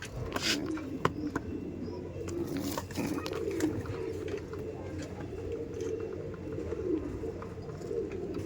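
Racer pigeons coo steadily in a crowded loft at a racing pigeon farm in Kolkata, a continuous low murmur of many birds with occasional flutters and sharper calls close by.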